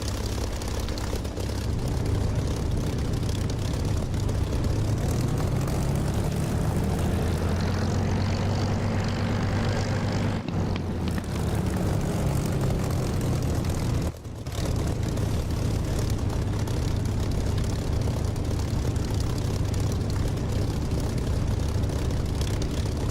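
A propeller aircraft engine in the DCS flight simulator game drones steadily and loudly, its pitch rising slightly as it runs up, with one brief dip near the middle and no voices.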